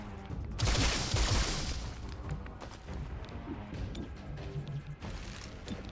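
Gunfire in the squad tactics game XCOM Chimera Squad, a loud burst of rapid shots near the start followed by continuing crackling impacts and combat noise.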